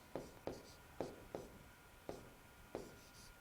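Chalk or marker tapping and scratching on a board as math is written, a string of sharp, quiet strokes at an uneven, unhurried pace with no talk.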